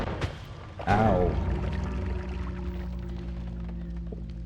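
A loud explosion in the video game Noita erupts about one second in, a broad boom with a ringing, descending tail that decays slowly over a sustained rumbling game soundscape.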